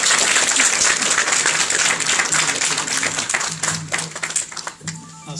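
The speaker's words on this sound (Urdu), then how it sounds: "بھرپور تالیوں میں جناب احمد صفی صاحب" Audience applause at a literary conference as a guest speaker is welcomed to the stage, loud sustained clapping that thins toward the end, with faint voices underneath.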